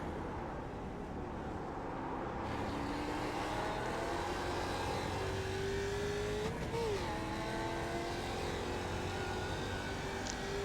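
Simulated Ford Mustang production race cars at Ledenon in iRacing, a steady engine drone with rising and falling gear tones as the pack runs together, continuous and moderately loud with no talking.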